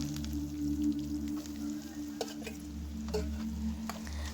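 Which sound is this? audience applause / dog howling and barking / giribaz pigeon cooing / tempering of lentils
tempering of lentils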